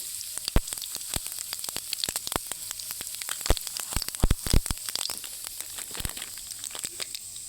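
Mustard seeds and peanuts fry in hot oil for curd rice, giving a constant crackling sizzle with many sharp pops and spits scattered throughout, close and fairly quiet.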